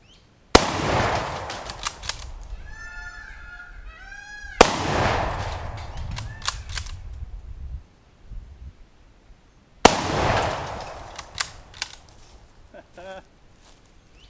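Three loud, sharp rifle blasts from a Mosin Nagant 91/30 set off an explosive target outdoors, each shot a sudden bang followed by a booming rumble and debris scattering, spaced a few seconds apart.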